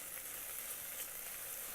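Ginger garlic paste with tomato sizzles and fries in an Instant Pot, a soft continuous hiss of hot oil crackling throughout.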